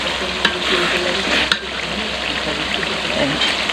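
Spice paste frying in oil in a village kitchen, stirred until it darkens and the oil separates, giving a steady close sizzle with scraping stir sounds and a few sharp clinks throughout.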